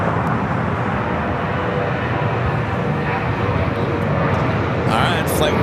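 A jet airliner begins its takeoff roll on runway 24 left at LAX, heard as a steady, broadband engine roar that holds at a constant level throughout, with a voice talking over it.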